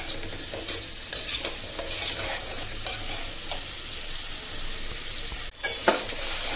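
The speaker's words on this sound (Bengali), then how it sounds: "আমার পেঁয়াজ রসুন কাঁচামরিচ টমেটো একদম ভাজা শেষ" Onion, garlic, green chilli and tomato sizzle in a pan as they are stirred, with a steady close frying hiss and repeated scraping strokes, no talk.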